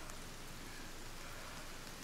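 Rain in the survival game Sons of the Forest hisses as a soft, constant wash of drops pattering on surfaces, faint and unbroken, with no voices.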